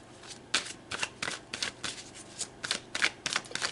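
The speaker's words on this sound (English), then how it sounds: "So let's pull some more cards." Tarot cards being shuffled by hand, a quick run of crisp papery riffles and flutters repeating in irregular bursts, close and fairly quiet with no talking.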